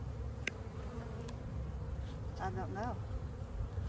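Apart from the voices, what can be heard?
honey bees buzzing at an opened hive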